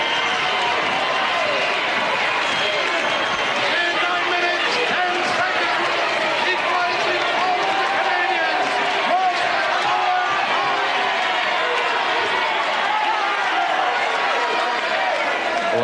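Crowd noise at a televised wrestling match, a continuous roar of cheering and chatter under a commentator's voice that keeps talking over it throughout.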